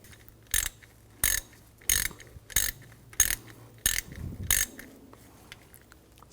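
A socket ratchet clicks in about seven short, evenly spaced bursts while snugging a bolt on the timing belt of a 2004-2009 Audi A4, close and crisp with quiet gaps between strokes.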